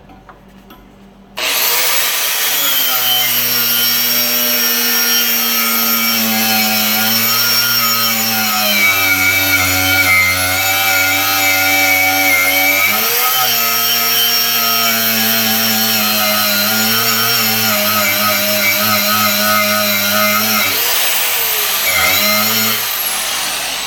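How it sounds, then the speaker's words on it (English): An angle grinder spins up abruptly and grinds black coating off a metal piece for a cowboy fire stand, a loud continuous whine with shifting pitch as the disc bites and eases, close and uninterrupted. "I'm just gonna grind off this black"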